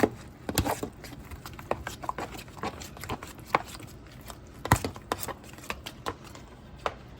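A dense hash brown casserole mixture is worked in a bowl, giving close, irregular thuds and squelchy knocks of the utensil against the dish at a steady, uneven pace.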